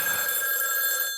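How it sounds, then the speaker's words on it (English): A telephone bell rings loudly and steadily indoors for just over a second, a bright continuous trill with no talking over it. "answer the phone."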